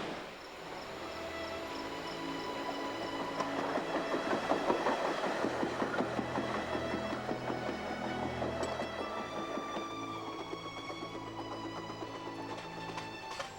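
A passenger train rolls through flattening countryside toward the province of Quebec, a steady rumbling drone with rhythmic clickety-clack of wheels over rail joints, heard from on board.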